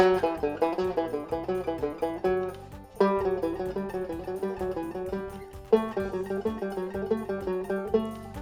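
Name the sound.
guitar single-string trichord exercise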